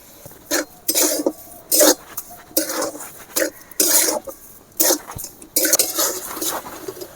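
Coconut and sugar filling stirred in a pan, a series of rhythmic scraping and clattering bursts from the spoon against the metal, close and fairly loud.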